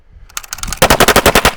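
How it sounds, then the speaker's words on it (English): Gatling gun in rapid fire into a ballistic gel block, a few scattered shots followed by a loud, steady burst of evenly spaced blasts, close and dominant, with no talking. "we're gonna see what this ammunition does in rapid fire at this gel block from Ballistic Dummy Labs"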